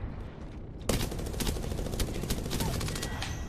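Automatic gunfire in the video game Apex Legends, a loud, sustained burst of rapid shots starting abruptly and continuing to the end over constant game noise.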